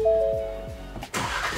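A 2021 Ford Bronco's 2.3L engine catches and starts in a short burst after a few chime tones and starter clicks, the sound rising abruptly near the end of the brief moment.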